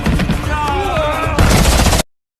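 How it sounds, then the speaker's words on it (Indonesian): A film shootout plays as a dense, loud wash of rapid gunfire blended with a tonal soundtrack, which shifts abruptly into a harsher burst before cutting off to silence. "dan baku tembak pun terjadi"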